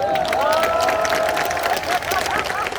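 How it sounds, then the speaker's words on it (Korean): An audience at a Kim Je-dong talk concert claps and cheers in a loud, continuous wash of applause and crowd noise, with a voice rising over it. "지금 박수 안 치시는 분들은 반성하셔야 됩니다."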